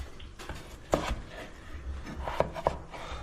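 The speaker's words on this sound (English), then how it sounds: "we're going to cut these up in wedges" A knife cuts clean potatoes into wedges on a board, giving a few sharp, separate chops spaced irregularly among quieter scraping and rubbing sounds close by.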